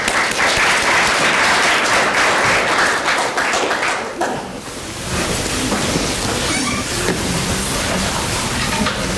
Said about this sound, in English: let's give a warm, husky round of applause for Marvin Fertel